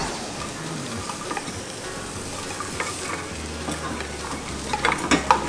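Onions frying in butter sizzle steadily in a pan while a utensil stirs and scrapes against it, with small clinks near the end.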